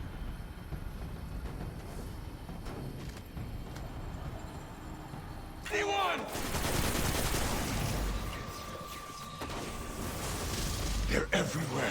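Gunfire in Destiny 2 Shadowkeep, quiet and scattered at first, then louder dense bursts of rapid shots against Fallen enemies, mixed with game effects and a steady tone.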